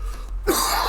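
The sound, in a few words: cough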